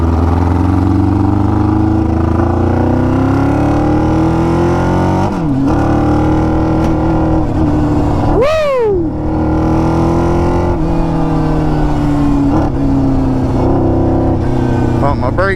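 A 600cc go-kart engine drives and shifts, its tone climbing steadily through the gears, then a sharp rev spike mid-run before it settles back to a loud, sustained drone close by.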